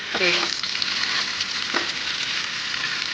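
Raw banana is sautéed in a pan for Marathi-style halwa, a steady close hiss of frying with faint stirring, a brief voice at the start.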